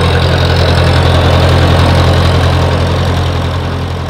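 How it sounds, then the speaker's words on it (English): Tractor engine idles while backing up to a chicken coop trailer, a loud, steady, close mid-to-low rumble with a constant hum that eases slightly toward the end, no talk. "We'll get the tractor backed up to it."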